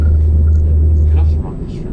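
A car in a driving video game running along a rumble strip gives a loud, steady low drone that drops off abruptly near the end, as the tyres leave the strip.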